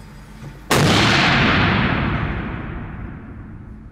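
One loud, sharp shot from an FX Crown Synthetic PCP air rifle cracks nearby and leaves a long fading tail of noise.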